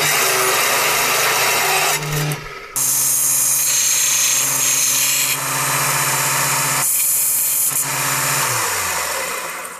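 Threaded all-thread rod being worked free from a part clamped in a bench vise, giving a loud, steady grinding, rubbing mechanical noise that runs almost continuously with a brief break near the start and another toward the end.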